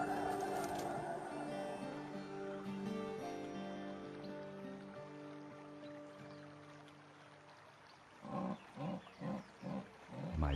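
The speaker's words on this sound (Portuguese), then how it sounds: "Outra onça fêmea está chamando por um macho." A female jaguar calls in the Pantanal, a series of about five deep rhythmic grunting roars near the end, following a long stretch of low ambient wildlife and water noise.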